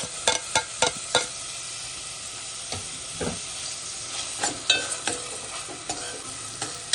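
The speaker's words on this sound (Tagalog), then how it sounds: "Siyempre, kailangan natin haluin ang bawang at sibuyas." Garlic and onion sauté for chicken macaroni soup, frying with a constant sizzle while a spatula stirs and scrapes in quick strokes. The strokes come in clusters of sharp knocks at the start and again later.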